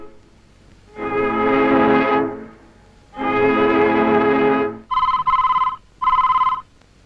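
An old-style telephone bell rings in a family comedy-drama scene: two long, loud rings separated by pauses, followed by two shorter, brighter bursts, clear and close in an otherwise quiet room.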